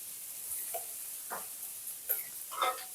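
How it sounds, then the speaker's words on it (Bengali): Sabudana pulao with potato, salt and turmeric fries in a pan as a soft, steady sizzle, broken by a few faint scrapes and clicks of stirring, with no talking. "আরও খানিকক্ষণ ভেজে নেব এটা"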